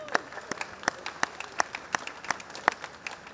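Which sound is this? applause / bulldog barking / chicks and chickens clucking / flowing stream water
applause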